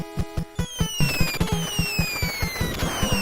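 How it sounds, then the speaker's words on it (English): Rapid machine-gun fire from the NES game Contra, a fast run of sharp, evenly spaced shots with falling electronic tones layered on top, loud and alone. "Forgot we had the machine gun for a second."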